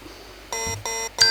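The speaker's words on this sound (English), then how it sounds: "So the timer has just ended." An electronic timer goes off in a beat-making session, sounding as three loud, sustained tonal beeps with bright harmonics, each ringing about a third of a second, with a low thump under the second and nothing else around.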